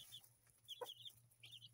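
Backyard chickens cluck softly and intermittently at a distance, short repeated calls over a steady low hum, faint and with no talking.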